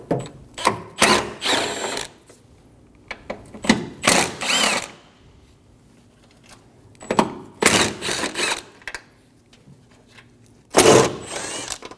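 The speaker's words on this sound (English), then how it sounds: "Using a 10mm socket, we're going to remove all of the bolts for the plate." Ratchet with a 10mm socket removing bolts from a plate under a 2008-2015 Scion xB 2.4L, close and clear: several bursts of rapid clicking ratcheting separated by pauses, no talk.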